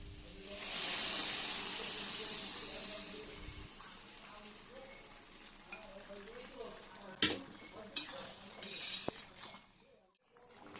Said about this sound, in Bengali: বেশ খানিকক্ষণ ধরে কষে নিয়ে এবার সিদ্ধ করে রাখা মটরটা দিয়ে দেব